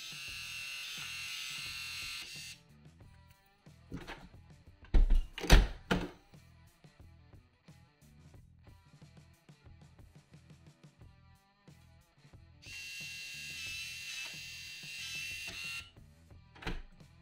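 Danalock V3 Bluetooth smart lock whirs with a small electric motor as it unlocks, followed by a few clunks and clicks, then whirs again after a pause as it relocks, close and fairly quiet with no talking.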